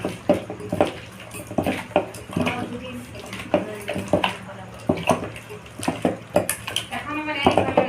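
Chicken being mixed with yogurt in a metal pot, with repeated close clinks and scraping knocks of utensil against the vessel and wet squelching in between.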